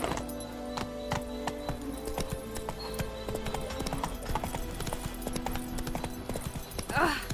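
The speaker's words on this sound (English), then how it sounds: "That's it, Roach" Horse hooves clip-clop in a steady repeated rhythm on the ground in The Witcher 3 video game, the beats close and distinct over a low ambient game background, with a brief whinny-like rise near the end.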